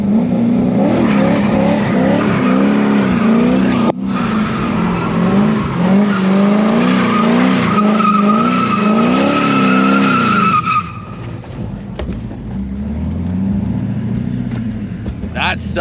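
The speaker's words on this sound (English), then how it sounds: "We're doing a burnout." A BMW E46 fitted with an LSA V8 does a burnout, its engine roaring and wavering in pitch with tire squeal over it for about ten seconds before settling to a lower idle rumble; a voice is briefly heard.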